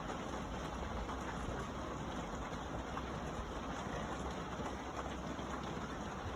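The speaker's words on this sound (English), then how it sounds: "And it's raining." Rain pours steadily during a thunderstorm as a dense, even hiss at moderate distance, with no thunder or voices.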